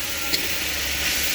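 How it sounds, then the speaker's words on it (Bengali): Flat beans mixed with green beans frying lightly in oil after potatoes, a steady soft hiss and sizzle throughout with a brief louder crackle near the start. "আলু ভাজার পরে দুটো হালকা করে একটু ভেজে নিচ্ছি"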